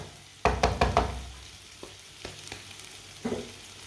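Vegetable curry gets stirred in a pan on the stove, with a quick burst of spoon scrapes and clatter followed by a few sparse knocks over a faint sizzle.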